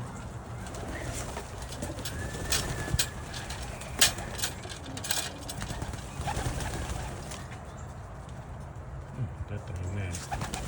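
Pet pigeons coo softly on and off in an outdoor loft area, with someone talking intermittently and general background noise throughout.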